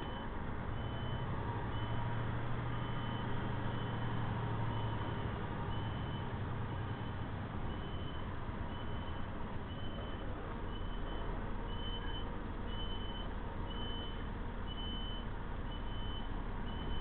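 A semi truck backs up to hook onto a trailer during a drop-and-hook, its reversing alarm beeping steadily and evenly throughout over a continuous low diesel engine rumble.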